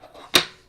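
One sharp metallic clack as a metal ruler drops onto a table, close and brief, followed by quiet.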